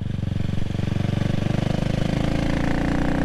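A CCM Spitfire Six motorcycle engine while riding, a loud, close, steady pulsing thrum that rises slightly in revs over a few seconds.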